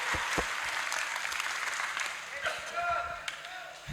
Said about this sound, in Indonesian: Tepuk tangan dong buat orang-orang gendut.